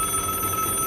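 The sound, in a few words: telephone ringing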